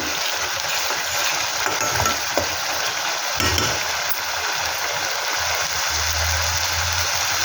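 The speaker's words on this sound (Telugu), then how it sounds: "ఇంకొక 5 నిమిషాలు మాడకుండా ఇలాగ కలుపుకుంటూ ఉంటే మాడకుండా వేగుద్ది." Chicken gravy masala frying in oil while being stirred, a loud continuous sizzle and crackle close up with occasional scrapes of the spoon in the pan.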